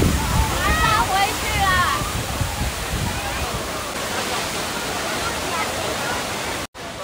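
The waterfall at Mount Lu roars as a steady broad rush of falling water, loud and constant, with a person talking over it near the start.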